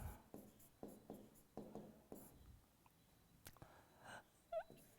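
Pen scratching on paper during a class 8 mathematics lesson, a quiet run of short rhythmic strokes and taps close by, with no talking over it.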